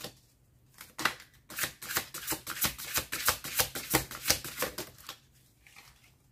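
Tarot cards riffle in a quick run of about a dozen crisp flicks after a single snap, then quiet returns; close and fairly soft, with no talking.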